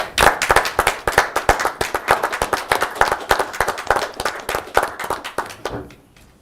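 An audience claps steadily for several seconds at a city commission meeting, a dense, close round of applause that fades out at the end.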